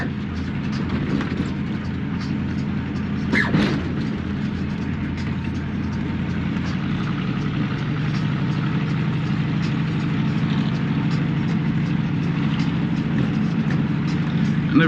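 A 1964 Chevrolet Impala lowrider drives along with a steady engine drone and loose rattling from the car, heard from inside, with one brief louder knock partway through.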